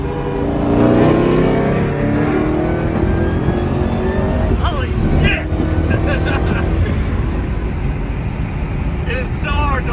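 A Shelby Cobra-style sports car on street tires accelerates hard on a freeway, its loud engine roar rising and falling close by with wind rush, while a person talks over the engine noise.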